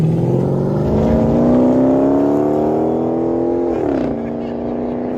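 A 2007 Chrysler 300C with a 5.7-liter Hemi V8, factory converters and factory X-pipe, revving loud and close in a deep rising drone that climbs steadily, then drops back to a lower idle near the end.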